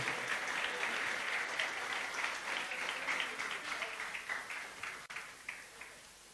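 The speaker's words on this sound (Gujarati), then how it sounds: "પધારેલ સર્વે વડીલો માટે જોરદાર તાળીઓથી એનું સન્માન કરીએ આપણે" Steady applause from an audience at a youth association's annual general meeting in Borivali, Mumbai, honouring the elders in attendance, a dense even clapping that thins and fades toward the end.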